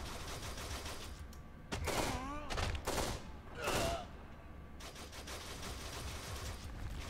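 Gunfire in the video game Kane & Lynch 2: Dog Days, rapid bursts of shots in a dense sustained battle with several louder volleys, accompanied by a continuous rumble and mechanical clatter.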